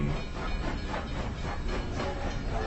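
A train pulls away from a station with a rhythmic, pulsing chug and hiss, fairly loud and steady throughout the short stretch, with no voices.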